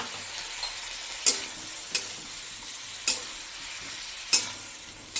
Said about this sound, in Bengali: একটু জল দিয়ে দিলাম মশলাটা কষানোর জন্য